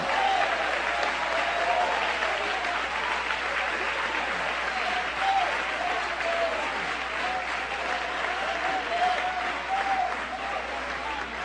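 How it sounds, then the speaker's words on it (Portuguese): A church congregation claps in unison during a worship service, a dense, sustained wave of hand claps that carries on evenly for over ten seconds, loud and close. "desocupem as mãos, batam palmas e glorifiquem ao Senhor"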